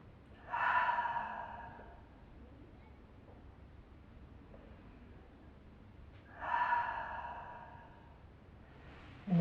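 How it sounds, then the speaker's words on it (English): Two slow, deep breaths are exhaled audibly through the mouth during a quiet yin yoga session, each a soft, airy whoosh several seconds apart, fairly close and alone without talk. "Take 2 deep breaths here and exhale through your mouth."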